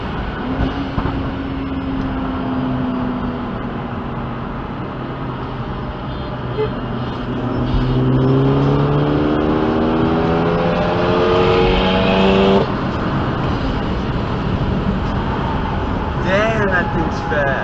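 Ford Focus ST with a turbo blow-off valve accelerating on the road, caught from a dash cam: a rising engine note climbs over steady road and cabin noise, with voices talking in the car.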